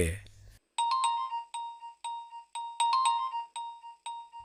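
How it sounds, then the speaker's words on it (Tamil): A phone ringtone plays a repeating electronic melody of bright, evenly spaced tones, loud and close, after a brief burst of other sound at the start, with no talk over it. "போன் அடிக்குது பாரு"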